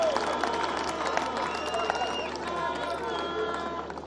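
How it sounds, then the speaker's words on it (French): A crowd at a university inauguration in Congo applauds and cheers continuously, a dense, fairly loud wash of clapping with a voice over the address system talking on top. "je vous prie d'applaudir ces grands artisans affectueusement"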